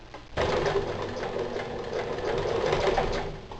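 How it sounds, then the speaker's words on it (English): A sewing machine stitching a strong double seam on feed bags used as potato grow bags. After a quiet start it whirs steadily and close at high speed, rattling for several seconds before easing off. "I'm going to give this a nice strong double seam."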